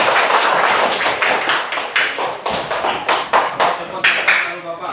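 A group of schoolchildren claps in an irregular rhythm, with loud bursts of clapping and short pauses between them, and voices faintly audible underneath.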